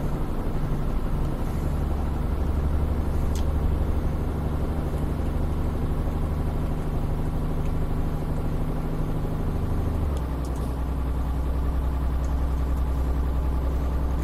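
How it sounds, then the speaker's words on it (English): A Mercedes-Benz Actros MP3 truck engine in Euro Truck Simulator 2 growls steadily with a deep, continuous low rumble that shifts to a lower pitch partway through, heard alone with no talk. "Listen to the engine, it's almost like a growl."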